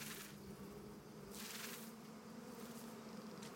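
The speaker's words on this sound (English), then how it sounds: "The bees are the biggest in the world and among the most dangerous." A swarm of giant honey bees, the world's largest, drones at a cliffside nest in a steady, dense buzz that stays close and continuous, with a few brief rises in hiss.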